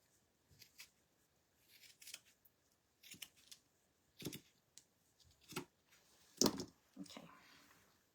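Cutting with scissors while making a gingerbread craft, a series of faint, close snips in irregular bursts with one sharper cut near the end, in a quiet room.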